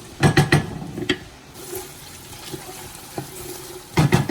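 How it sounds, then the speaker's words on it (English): Steady sizzling of onions frying in a pan for mutton pulao, with a few clattering stirs and scrapes at the start and end. "You want to hear the sizzle."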